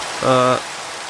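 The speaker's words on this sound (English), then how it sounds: "It's raining out." Steady rain falls outdoors in the background throughout, a soft continuous hiss, with a brief tonal hum rising over it near the start.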